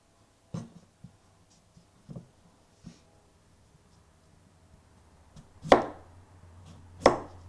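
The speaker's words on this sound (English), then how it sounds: "So we're just going to cut it in very thin slices." A knife slices thinly through an onion on a cutting board, with sparse, isolated chopping taps spaced a second or so apart and two louder, sharper cuts near the end, otherwise quiet.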